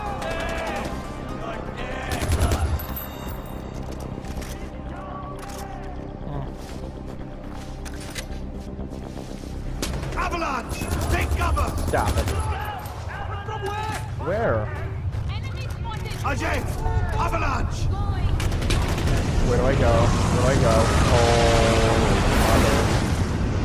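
Gunfire in the Far Cry 4 video game, scattered shots and bursts over a busy game soundscape with music and effects, loud and continuous, with someone talking over it.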